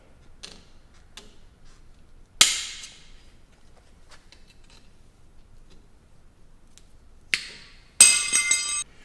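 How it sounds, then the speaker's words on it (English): A metal leaf spring clamp being removed from a cable on a Toyota Tacoma frame rail, heard as sparse, sharp metallic clinks and ticks in a quiet space, with a louder clank midway and a ringing jangle near the end. "Remove this leaf spring clamp from the cable."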